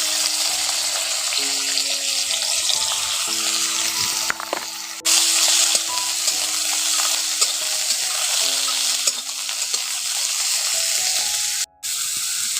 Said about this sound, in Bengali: ওই তেলের মধ্যে পটলগুলো দিয়ে দিচ্ছি, একটু ভেজে নেব।